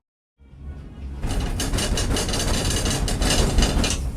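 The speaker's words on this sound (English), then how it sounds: "So these, the tram on the way up is really cool." Steady rumble and rattle of an enclosed tram climbing toward the ski slopes at a Bulgarian resort, starting after a moment of silence and then running continuously with clattering and mechanical hum, close and fairly loud.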